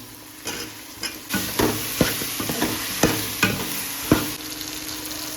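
Potato pieces dropped into a hot pan of sautéed tomato, green chili and garlic for sambar, a sudden loud sizzle followed by repeated scraping stirs and frying crackle, close and without speech.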